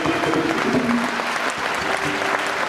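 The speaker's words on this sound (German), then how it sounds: "Applaus." Concert audience applauds steadily and loudly for a percussionist during a rock show in Baunatal, a dense wash of clapping with no break throughout.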